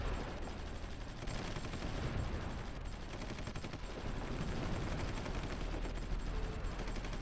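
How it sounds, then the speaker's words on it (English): Artillery and gunfire from the strategy game Supreme Ruler Ultimate form a dense, continuous rumble of overlapping blasts and rapid shots, steady and heavy throughout with no clear gaps. "there's a lot of British artillery. Both anti-air and regular."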